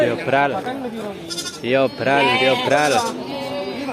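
Javanese Randu goats bleat several times in a row, loud and close, with wavering calls separated by short pauses.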